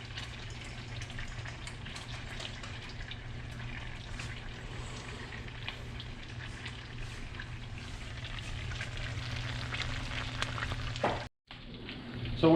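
Shark pieces cook in butter with a touch of garlic, giving a moderate, continuous sizzle and light crackle under a low hum, briefly cut off near the end before resuming.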